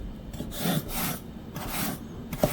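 Knife cutting old yellow cucumber (nogak) into thick strips on a board, a run of soft, moist rasping strokes, close and steady, with a sharper tap near the end.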